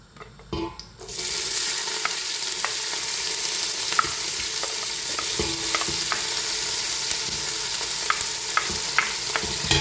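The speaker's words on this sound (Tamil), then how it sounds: "வெங்காயத்தை வடிவாக கலந்து விடணும். வெங்காயம் வந்து நல்லா வதங்கணும்." Onions sautéing with cloves, cinnamon and cardamom for mutton biryani break into a loud, continuous sizzle after a brief quieter start, with the scrape and clink of stirring throughout.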